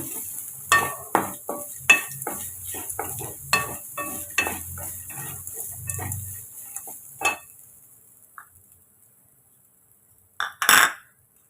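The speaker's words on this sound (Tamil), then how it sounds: "ஒரு 2 நிமிஷம் நம்ம வதக்கி எடுத்துக்கலாம் தேங்காயை." Grated coconut sautéed in a pan, a spoon scraping and clinking against the metal in a quick rhythmic series over a soft sizzle, then it goes quiet before two final clanks near the end.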